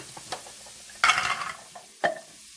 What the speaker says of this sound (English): As the beef is browning